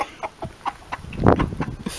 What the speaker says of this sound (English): That's my youngest rooster, Henry.